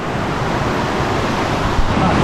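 Steady broadband rush of the Digua river flowing below the old Buenaventura road in Dagua, Valle del Cauca, a continuous wide wash of water noise holding even throughout.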